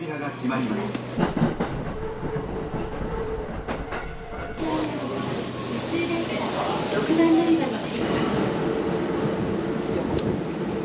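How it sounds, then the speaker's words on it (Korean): A train in Japan rolls steadily along the rails with rhythmic clicking and a low rumble, heard from inside a carriage, with occasional voices nearby. "미키는 이번이 첫 기차입니다."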